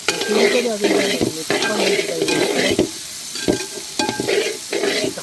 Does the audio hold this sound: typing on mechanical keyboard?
no